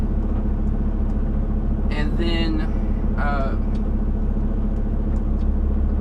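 A truck engine idles with a steady low rumble and hum, running to build up brake air pressure, while someone speaks briefly over it.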